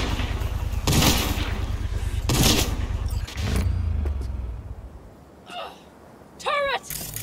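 Turret gunfire in the video game Cyberpunk 2077: several loud, short bursts of automatic fire, each a harsh roar lasting a fraction of a second, spaced about a second apart, with game ambience and a voice speaking briefly later.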